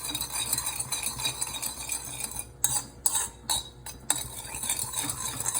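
A spoon stirs lemon and sugar in a pan over a gas flame, with continuous scraping and clinking against the metal and a few brief pauses, close and clear.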